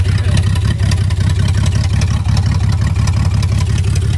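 A BMW 325xi E46 bought cheaply from an auction runs steadily with a rough, rumbling engine note, loud and close, holding an even rhythm throughout with no voices.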